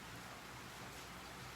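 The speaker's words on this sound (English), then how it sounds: "I don't know if you guys can hear the raindrops. It's raining here in LA." Steady rain falls outdoors in Los Angeles, a soft continuous hiss of drops on surfaces that stays even and quiet throughout with no talking.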